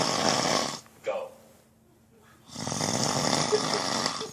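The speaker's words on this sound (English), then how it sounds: "loud snore." A man snores loudly and nearby in long rasping breaths, the second one drawn out after a short quiet pause.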